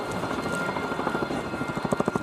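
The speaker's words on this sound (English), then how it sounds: "I give you the Royal Air Force Chinook display team" A Royal Air Force Chinook helicopter makes a flying display at an air show, heard as a steady rotor roar. The roar swells into a quick, pulsing chop near the end.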